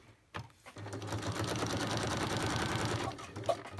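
Sewing machine stitching around a handmade photo folder, a couple of clicks followed by a close, steady whirring run of rapid needle strokes for about three seconds.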